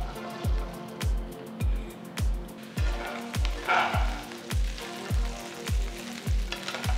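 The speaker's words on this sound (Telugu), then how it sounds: "ఇప్పుడు వీటిని వేయించడానికి ఒక వెడల్పాంటి ప్యాన్లో 2 టేబుల్ స్పూన్ల నూనె వేస్తున్నాను. ఇందులో బెండకాయ ముక్కలు వేసి" Chopped okra frying in two tablespoons of oil in a wide pan gives a steady, broad sizzle, with a rhythmic thumping music beat underneath.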